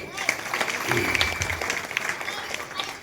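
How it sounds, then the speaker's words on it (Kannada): Loud audience applause at a commemorative week-long anniversary programme, thanking a performer and his team: dense, uneven clapping with sharp individual claps and some crowd murmur, fluctuating in intensity throughout. "ಶ್ರೀ ಚೇತನ್ ಚಕ್ರವರ್ತಿ ಹಾಗೂ ತಂಡದವರಿಗೆ ಧನ್ಯವಾದಗಳನ್ನು ಅರ್ಪಣೆ ಮಾಡುವ ಜೋರಾದ ಚಪ್ಪಾಳೆಯೊಂದಿಗೆ"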